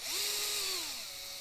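A power drill whines as a bit bores through a small model part for a GP3D RC10GX89 replica RC car build, a short high-pitched spin that winds up and then slows.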